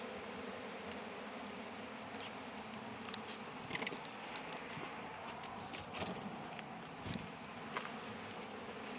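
Honeybees buzz in a dense, steady hum around a hive being worked, with scattered clicks and rustles of handling mixed in. The hum stays low and continuous throughout, with no voices.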